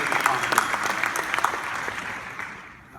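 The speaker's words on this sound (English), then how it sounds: "So we do applaud everyone making it possible." Audience applause at an awards ceremony, a dense wash of clapping from a large room that holds steady and then thins out toward the end.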